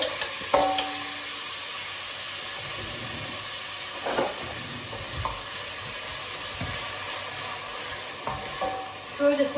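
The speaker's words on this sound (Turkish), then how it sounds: "Şöyle soğanım kavrulsun." Onions browning in a pan on the stove give a steady, soft sizzle and hiss, broken by a few brief stirring scrapes, with no talking.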